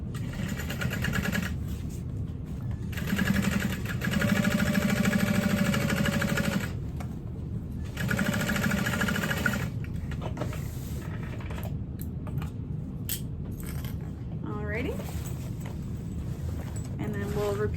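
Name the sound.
sewing machine stitching backpack lining seam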